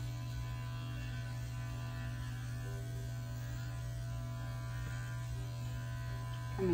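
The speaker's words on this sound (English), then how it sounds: "Using my 4F blade, we will go back over the clipper work in the same manner that we did before the bath." Electric dog clippers fitted with a 4F blade running over a Shih Tzu's coat during grooming, a steady close motor buzz with a strong low hum, continuous throughout.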